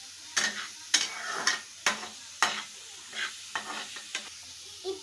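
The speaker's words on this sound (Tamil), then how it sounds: "நல்லா பச்சை வாசனை போகிற வரைக்கும் வதக்கிக்கோங்க." Onions sautéing over a high flame in a pan, with a sizzling bed broken by repeated sharp scrapes and stirs of a spatula, about ten strokes spaced unevenly, close and moderately loud, with no talking.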